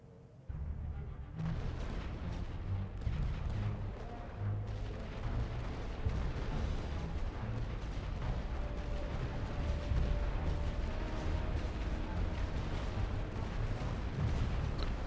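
Continuous World War I gunfire and artillery rumble in The Great War Western Front, a dense, steady barrage of booms and shots at moderate distance, with no talk.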